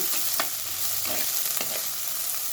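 Curry leaves and onions sizzling in hot oil for a dried prawn fry, a steady crackling hiss with several sharp stirring scrapes, close and moderately quiet, no voices.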